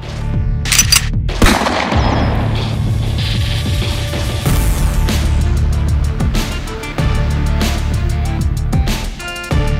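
Rapid gunfire from a Taurus .44 Magnum revolver and an IWI Jericho 9mm pistol at a shooting range in Rio de Janeiro, loud close shots in quick bursts with sharp attacks and ringing decay, no talking.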